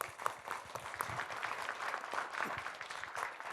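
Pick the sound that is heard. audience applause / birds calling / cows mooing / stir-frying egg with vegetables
audience applause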